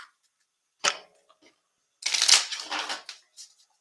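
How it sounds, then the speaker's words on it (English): Two bursts of shuffling from a 20-card deck of playing cards, first a short riffle and then a longer crisp flurry of papery flicks, close and alone with no talk. "So you're going to shuffle the deck."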